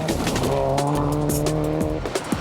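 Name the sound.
rally car tyres skidding sideways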